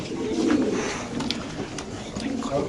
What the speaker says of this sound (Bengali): এই পেয়ারটাও যদি কোনো ভাবে নেন কাশ্মীরি রেসার কবুতর